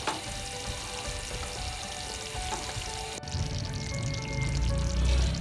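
Kadhi cooks in a pot with a continuous soft bubbling and sizzle, steady and close, growing slightly fuller and louder toward the end.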